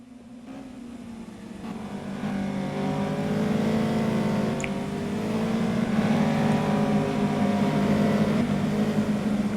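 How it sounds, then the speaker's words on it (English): Onboard race car engines in the sim racing game Simraceway hold a loud, steady, rising whine close to the listener, revving continuously with no talking. "just listen to these cars on board, the amount of oversteer that's kicking out of some of them is truly quite remarkable"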